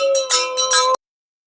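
Temple puja bells at a Chitrakoot ashram ring loudly in quick metallic strokes for about a second, then cut off into silence.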